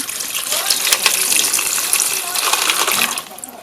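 Water pours steadily from a tap into a pot for boiling freshwater snails, a loud bright gushing stream that tails off near the end.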